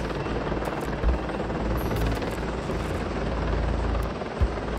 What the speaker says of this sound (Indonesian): Helikopter ini memiliki kemampuan mengangkut beban yang berat dan berbagai muatan.